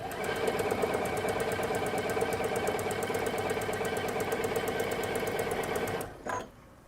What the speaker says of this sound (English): just sew right along it. And then I'm going to chain stitch